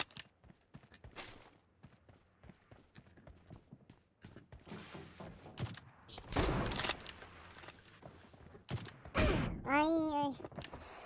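PUBG Mobile gunfire comes as scattered sharp shots amid footsteps and game noise, building into louder bursts near the end, with voices talking and exclaiming throughout.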